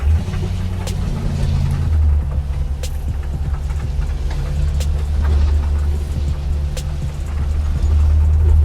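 A 1983 Jeep CJ-7 fitted with a swapped 350ci engine crawls over test rocks in two-wheel drive, its low engine rumble steady and close, with occasional knocks and bumps from the terrain.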